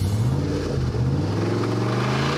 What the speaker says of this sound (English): I'd say that's a connecting rod getting ready to let go